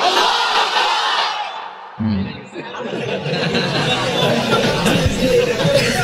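A large crowd at an Islamic religious gathering loudly shouts the takbir in unison. The roaring, sustained voices break briefly and then surge again into a dense, powerful chant.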